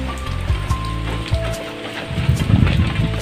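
Steady rain falls on a village, a dense close patter on surfaces with a low rumbling undertone that thickens toward the end.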